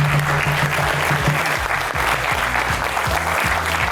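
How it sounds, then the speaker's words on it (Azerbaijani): Theatre audience at a comedy show applauding a team, dense sustained clapping from many hands filling the whole stretch at a steady loud level. "Gəlin komandanı alqışlayaq."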